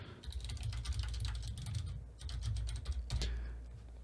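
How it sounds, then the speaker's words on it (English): Rapid keystrokes on a computer keyboard while leaving comments in a web app, a steady run of close, crisp clicks with brief pauses and no talking. "I can just start typing whatever I want."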